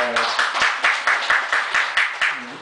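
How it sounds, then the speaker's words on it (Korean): A small gathering at a Buddhist temple class claps in a slow, steady rhythm of about a dozen distinct claps, fairly close, with a voice briefly heard. "박수 보내주세요"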